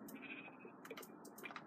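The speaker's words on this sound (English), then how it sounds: "What is with all the black sheep?" Black sheep in Minecraft give two or three short, clear bleats in a quiet setting, close by and alone.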